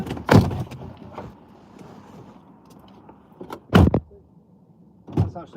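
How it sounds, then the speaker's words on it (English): A car door shut firmly during a driving lesson, with several dull thuds spread across a few seconds over a low idling rumble, fairly near and loud. "You should always shut your door, even if somebody's stood there, because the wind can really take it away from you"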